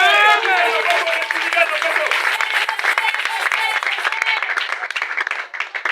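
A church congregation applauds with a steady wash of clapping and raised cheering voices, loud and sustained throughout, with speech mixed in over the crowd.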